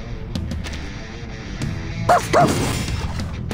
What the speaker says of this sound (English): woof, woof, woof, ruff, ruff.